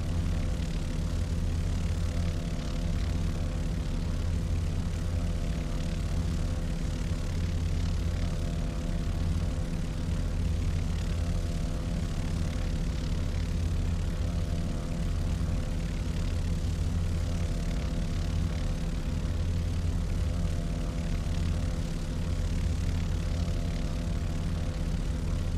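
A passenger airplane taxiing on the runway on a flight from Mumbai to Bhavnagar, heard from inside as a steady, loud engine drone with a low rumble that holds evenly throughout.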